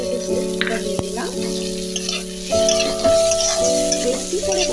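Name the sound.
potato snack batter frying in a pan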